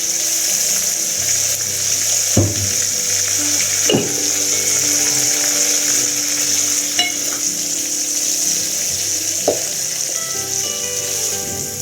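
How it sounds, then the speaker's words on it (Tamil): A ground onion and tomato paste sautés on high flame for Tamil fish curry, hissing and sizzling loudly and steadily up close, with a few clanks of a stirring spoon against the pan. "அடுப்பை ஹை ஃப்ளேமில் வச்சுக்கிட்டு வதக்குங்க."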